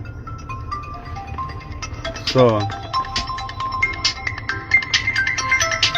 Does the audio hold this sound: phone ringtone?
yes